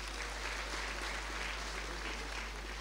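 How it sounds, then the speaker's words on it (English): Applause for Maranatha Girls Academy at a business function: a continuous, steady wash of crowd clapping with a constant low hum beneath it. "Another applause for them, please."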